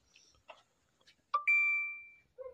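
A phone chime sounds once, a short bright ding with a sustained ringing tone, between brief scuffling noises in a quiet, reportedly haunted location.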